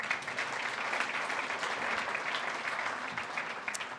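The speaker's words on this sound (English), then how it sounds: "Go ahead, give that a round of applause." Audience clapping at a chamber of commerce awards gala, a continuous moderately distant round of applause with even density throughout.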